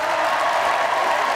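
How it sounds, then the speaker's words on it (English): A studio audience gives a round of applause for the dancers at a televised charity dance contest, a dense continuous wash of clapping heard briefly and loudly. "Round of applause for my wonderful dancers."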